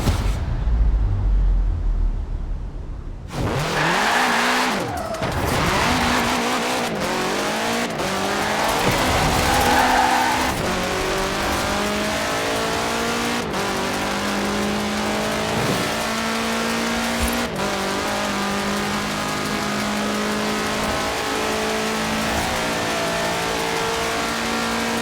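A 1966 Volkswagen Beetle fitted with a 2.5-liter turbocharged flat-four engine in the Forza Horizon 4 racing game, starting up then revving hard and accelerating with rising engine pitch and gear shifts, loud and continuous, with brief tire squeal.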